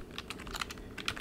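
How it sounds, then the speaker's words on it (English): Rapid, light keystrokes on a computer keyboard, close and fairly quiet, in an irregular run of clicks with no talking. "Let me just type that in."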